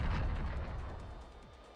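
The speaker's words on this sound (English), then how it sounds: "Upon impact, there are a blinding explosion gargantuan in scale." A huge explosion in the video game Nikke: Goddess of Victory, a heavy boom that fades into a rumbling decay.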